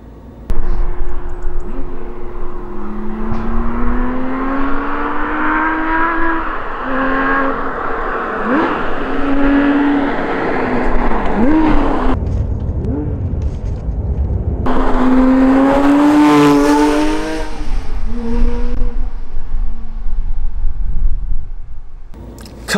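A 2010 Porsche 911 GT3 RS engine roars close and loud during heel-and-toe downshifts, with sharp throttle blips, rising and falling revs, and a brief lull before another run of shifts and blips.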